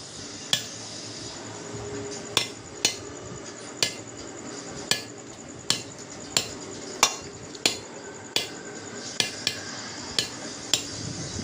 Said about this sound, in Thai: ตอกลงไป เบาๆ นะครับ อย่าให้มันปริ้นนะครับ ให้มันลงร่องพอดี